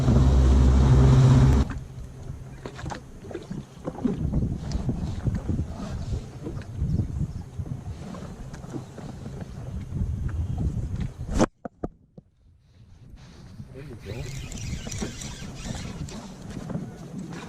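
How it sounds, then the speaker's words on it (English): Wind gusts across a Michigan lake during a spring walleye fishing trip, a steady broadband rush and buffeting close to the microphone with boat and water noise beneath, dropping out briefly near the end. "It's getting windier."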